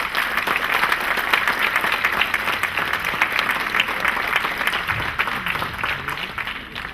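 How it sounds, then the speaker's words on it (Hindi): Audience applause at an Urdu writers society annual award night, a steady dense clapping from a crowd filling the room at even loudness throughout. "आपकी बहुत सी तालियों में।"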